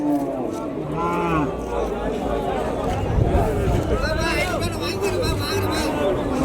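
A bull and other cattle low and moo amid a busy crowd at a cattle market in Vaniyambadi, with people talking and chattering throughout in a noisy outdoor setting.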